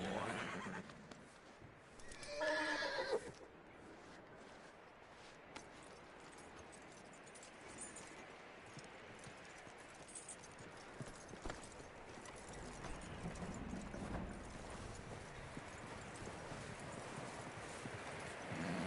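A horse whinnies loudly near the start, followed by steady clip-clop hooves throughout, with rustling ambience in the background.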